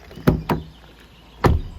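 Three solid thuds, two close together and then one more after a pause, as the doors of a 2021 Renault Arkana RS Line shut firmly nearby.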